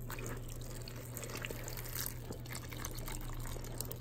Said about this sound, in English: all I'm going to do is pour this mixture over the bread.